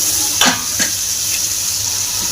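Eggplant hits a hot pan and sizzles in a steady, close frying hiss, with two quick scraping stirs near the start, no talk.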